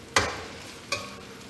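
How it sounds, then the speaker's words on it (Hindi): Onion, garlic-ginger paste and turmeric frying in a pot for biryani give a soft, steady sizzle, with two quick stirring scrapes standing out close by. "अब हम इसमें ऐड करते हैं और इसे हल्का सा फ्राई करते हैं।"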